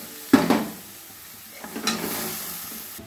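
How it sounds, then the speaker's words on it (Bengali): Water poured onto fried spice paste in a pan for hilsa curry, a sudden loud hiss that fades into a gentle sizzle, then a second softer splash and hiss, close and without voices. "এবার একটু পরিমাণ মতো জল দিয়ে দেব।"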